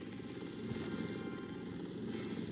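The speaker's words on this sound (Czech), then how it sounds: "Helikoptéra je na této mapě teda nejrychlejší způsob přepravy." Helicopter flying in a Minecraft game, a steady, faint rotor-and-engine drone held evenly throughout with no talk.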